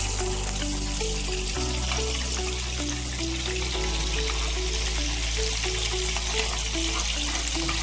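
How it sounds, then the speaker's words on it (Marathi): Chopped capsicum frying in butter for street-style Mumbai pav bhaji, a steady close sizzle running without pause under a low background hum and repeating tonal beeps. "या बटर मध्येच आपण हे शिमला मिरची आधी टाकून घेणार आहोत"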